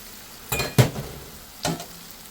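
Chopped fresh okra going into a hot pan of onions, ginger, garlic, chillies and spices, with a few sharp clattering bursts and clinks over a low background sizzle.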